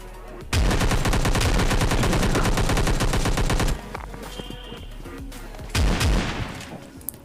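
Gunfire from PUBG Mobile Lite: a dense, loud burst of rapid automatic shots for about three seconds, then quieter scattered shots and a second short loud volley near the end, with no talking.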